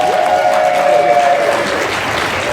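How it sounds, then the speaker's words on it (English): A crowd at a live gaming-convention podcast panel gives a loud, sustained round of applause, dense clapping filling the space while a faint tonal whine runs briefly underneath. "One more big round of applause."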